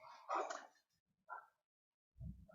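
A dog barking indoors: a couple of sharp barks, then a softer yip and a low woof, fairly close and moderately loud, with no talking over them.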